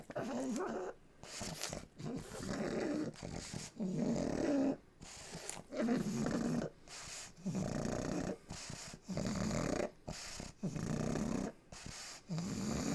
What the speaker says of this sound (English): Are you soothed by the noises of the pug?